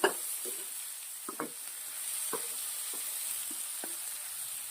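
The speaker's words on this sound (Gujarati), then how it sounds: "કોબી પણ થોડી સોતે કરી લઈશું આપણે." Shredded cabbage sautéing in a pan for baby corn Manchurian gives a steady soft sizzle, broken by a few sharp clinks and scrapes of a spoon stirring against the pan.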